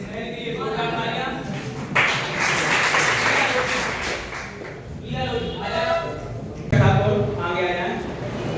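Clapping at a girls' honouring ceremony marking the tricentenary of Devi Ahilyabai Holkar's birth, a loud swell of applause in the middle with speech before and after it, plus occasional thumps.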